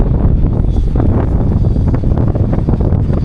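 Strong wind buffets the microphone high up on a glass bridge in Sa Pa, Vietnam, a loud, steady roaring rush with gusty swells throughout and no talk.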